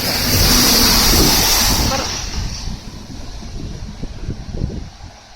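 A big truck passes on a wet road and sprays water, a loud rushing hiss of spray and engine roar up close that fades after about two seconds into quieter low rumbling traffic.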